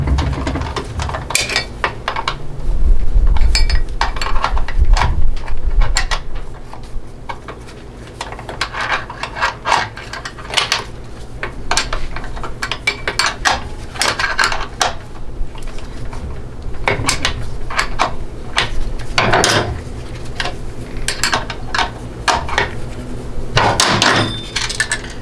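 A 15 mm wrench works the selector shaft nut loose on a GM 200-4R transmission during teardown, giving metallic ratcheting, scraping and clinking clatter that continues unevenly throughout, close and fairly loud.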